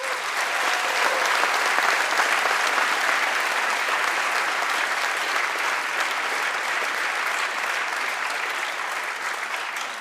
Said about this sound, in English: So give them some applause.